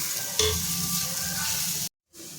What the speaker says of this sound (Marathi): आता ह्याच्यामध्ये रताळ्याचा कीस टाकून भाजून घ्यायचं आहे आपल्याला